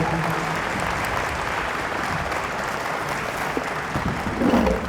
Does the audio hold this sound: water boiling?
no